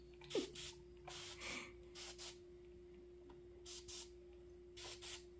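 Soft repeated hisses of a fine-mist spray bottle misting tomato and bottle gourd seedlings during repotting, in short bursts and pairs at an irregular rhythm, close but quiet over a steady low hum.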